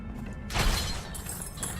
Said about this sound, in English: I like smashing stuff.